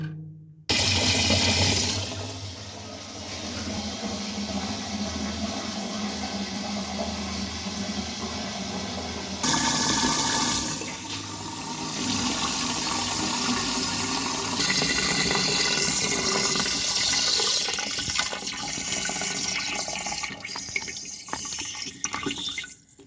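A concealed toilet cistern flushes with a loud rush of water that continues for a long stretch, then shifts into a steady refilling gush before cutting off.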